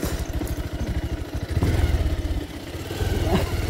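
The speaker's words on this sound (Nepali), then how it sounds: "मान्छे हिँड्ने गोरेटो हो तर हाम्रो बाइक हालिदिन्छु" A 220 motorcycle rides along a rough, narrow footpath, its engine throbbing and revving up and down close by, with clattering over the uneven ground throughout.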